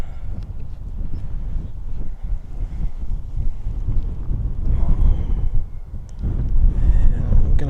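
Strong, steady wind roars across open heathland and buffets the microphone with low rumbling gusts, swelling and easing but never stopping.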